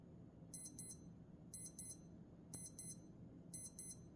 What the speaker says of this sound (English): They all have the Casio alarm, which to me is a unique vintage sound,